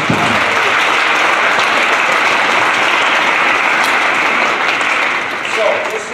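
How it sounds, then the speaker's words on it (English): A crowd of chapel attendees claps steadily to welcome visiting 5th and 6th graders from Faith Lutheran, a dense, loud applause that holds its level throughout and only begins to thin slightly near the end. "please give them a round of applause"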